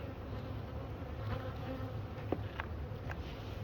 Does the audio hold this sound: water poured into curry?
no